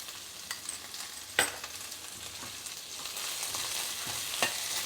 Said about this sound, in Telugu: ఇప్పుడు ఆనియన్ కొంచెం గోల్డెన్ బ్రౌన్ వచ్చే వరకు ఫ్రై చేసుకోవాలి.